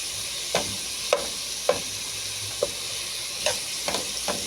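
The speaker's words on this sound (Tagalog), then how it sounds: "igisa muna natin na maigi" Diced tomato and guava sautéing in a pan for sinigang na bangus: a steady low sizzle with sharp scrapes and clacks as a utensil stirs, spaced about every half second to second, with no voices.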